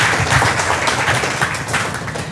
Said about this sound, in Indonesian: tepuk tangan dulu dong buat strong kanggeng